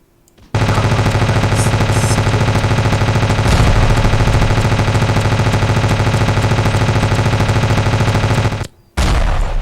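Automatic weapon fire in the video game Ravenfield hammers at a tank, a loud, continuous rapid rattle of shots lasting about eight seconds, then a brief gap before firing resumes.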